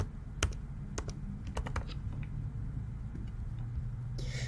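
Computer keyboard keys clatter in short, irregular bursts while a company website address is entered into an Indeed job posting, sharp clicks sitting over a steady low background rumble.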